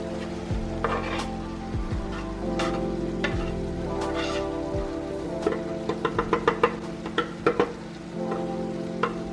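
Garlic and meat sizzle in a pan while cooking for lasagna, with a constant frying crackle, scraping stirs, and a quick run of sharp utensil knocks against the pan near the end.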